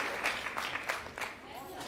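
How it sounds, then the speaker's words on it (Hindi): Applause at an International Women's Day celebration event, a short burst of clapping from the audience heard fairly clearly throughout. "एक बार ताली बनती है, जोरदार ताली"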